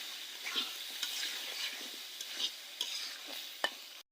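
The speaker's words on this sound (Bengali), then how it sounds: "এগুলাকে আবার ভালো করে কষিয়ে নেব।" Fish, potato and lentils being stir-fried with spices in a pan, a steady sizzle broken by scattered scraping and clinking stirs, close and moderately loud with no talking.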